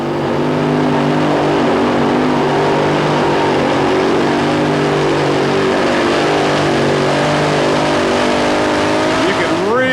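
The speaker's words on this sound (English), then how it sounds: "the Wisconsin puller with 4 big Aries engines ready to go" A Wisconsin modified pulling tractor with four big Aries engines roars at a 1991 tractor pull, a loud, sustained multi-engine drone that climbs in pitch near the end as the engines rev up.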